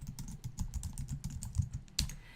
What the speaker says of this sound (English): it's going to ask me to type in my username and password